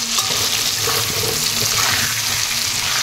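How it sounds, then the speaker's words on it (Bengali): Potatoes seasoned with salt and turmeric fry in hot oil, giving a steady, dense, loud sizzling hiss that runs unbroken for the whole stretch. "তেল গরম হয়ে গেছে, আলুটা দিয়ে দিচ্ছি। আলুটা আমি ভালো করে ভেজে নেব।"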